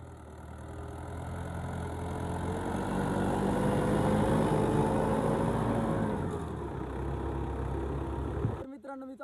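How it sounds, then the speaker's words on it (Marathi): A farm tractor in a field, being driven for the first time, runs with a steady low engine drone that rises and then holds, with faint voices in the background before it cuts out near the end. "मित्रांनो मी चालवला पहिल्यांदा ट्रॅक्टर भाई रोहितचा"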